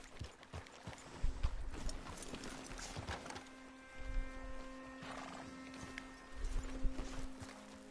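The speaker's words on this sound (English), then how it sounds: "Hey, get a hold of that horse," In the video game Red Dead Redemption 2, a horse's hooves clip-clop unevenly over ground, with a neigh partway through, heard at moderate distance against a steady background hum and no talking.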